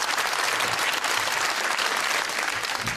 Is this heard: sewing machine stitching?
no